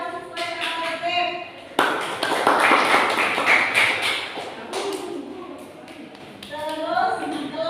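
Classroom pupils clap their hands together in agreement, a dense burst of clapping that swells in the middle and fades, with children's voices speaking and chanting before and after.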